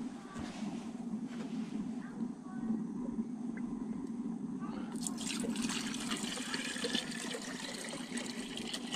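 Rainwater poured into the container of an Aldi compressor paint sprayer, a soft continuous trickle that turns brighter and splashier midway, faint and close with low background hum.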